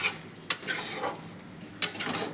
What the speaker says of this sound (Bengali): হালকা করে মিশিয়ে দেব।